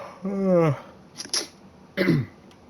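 A drawn-out yawn-like vocal sound is followed by a couple of short, sharp coughs close up, with brief pauses between them.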